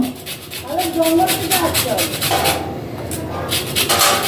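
A whole gondhoraj lemon has its peel grated: a close, steady run of dry rasping strokes, with a voice talking over the first part.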